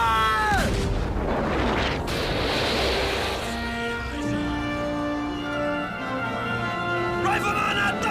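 Rifle volleys in a fantasy battle scene, deep booming blasts and rumbling roar rolling like surf, with shouted commands, ringing tones and swelling orchestral score layered over the noise.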